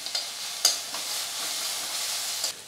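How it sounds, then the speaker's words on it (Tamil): Onion, green chilli and garlic sautéing in a pan for a chutney give off a soft, steady sizzle, with a few light clicks of stirring throughout and no voices. "இப்போ வெங்காயம் பச்சை மிளகாய் பூண்டு எல்லாம் சேர்த்து நம்ம வதக்கியாச்சு"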